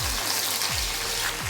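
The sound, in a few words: garlic and curry leaves sizzling in hot oil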